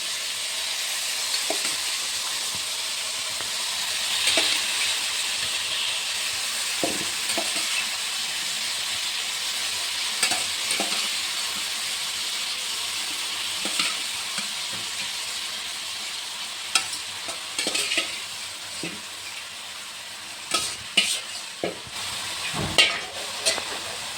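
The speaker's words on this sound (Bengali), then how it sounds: "এখন এটা একটু ভাজা ভাজা হতে থাকো" Boiled, drained cauliflower florets stirred into chopped tomato in a hot pan give off a steady soft sizzle and hiss, with scattered scraping knocks of a spoon against the pan throughout.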